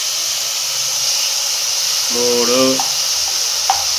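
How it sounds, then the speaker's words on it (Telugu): Ginger garlic paste drops into hot oil for a chicken pickle, giving a steady loud hiss-like sizzle throughout, briefly overlaid by a short spoken voice near the middle. "ఇప్పుడు ఇదే ఆయిల్లో మళ్ళీ అల్లం వెల్లుల్లి పేస్ట్. ఇప్పుడు అల్లం వెల్లుల్లి పేస్ట్ వేసుకోవాలి."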